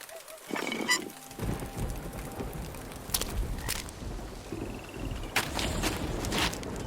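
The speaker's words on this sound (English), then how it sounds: "Cool drops of rain descend from the waiting foliage" Rain patters and drips steadily from foliage in a forest scene of the hidden-object game Mystery Case Files: Escape From Ravenhearst, a dense, continuous wash broken by scattered sharp drops.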